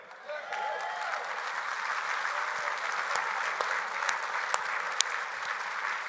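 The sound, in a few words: audience applauding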